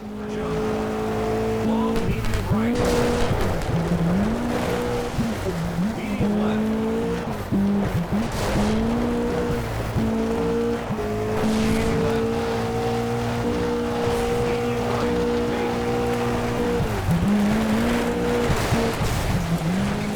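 Toyota Celica rally car in the Sega Rally Revo video game, engine droning loudly and steadily with gear-shift pitch drops, tires squealing and skidding throughout.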